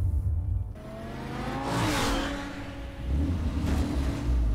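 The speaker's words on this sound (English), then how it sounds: "Check out my Ferrari that can turn into the Batmobile." A Ferrari in Batman: The Telltale Series drives off, its engine swelling into a revving roar and easing back before surging again. It is heard alone with no talk.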